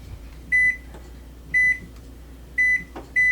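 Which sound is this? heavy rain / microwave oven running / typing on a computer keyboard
microwave oven running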